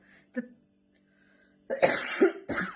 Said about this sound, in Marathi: बघा असा खोकला येतोय